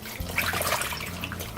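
Water runs steadily from a kitchen sink tap while onion rings are rinsed under it, a continuous close splashing wash lasting the whole short moment with no talk.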